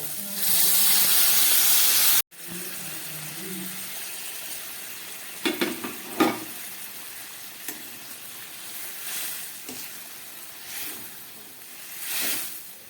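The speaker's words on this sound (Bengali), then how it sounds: "এবার আমি এর মধ্যে দিয়ে দিচ্ছি জল।" Warm water hits masala fried until the oil separates, for a rita tangra fish curry, bursting into a loud hiss for about two seconds before settling into a quieter simmering sizzle with occasional stirring clinks.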